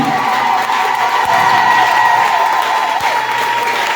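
A church congregation in Côte d'Ivoire applauds and cheers during a Sunday service, a loud, steady roar of clapping and shouting voices close by that carries on without a break.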